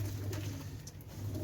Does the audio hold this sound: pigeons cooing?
yes